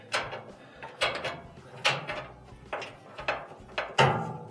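A screwdriver turns Phillips screws out of a dryer part, giving repeated ratcheting clicks and short metallic scrapes in a steady uneven rhythm, close and moderately loud.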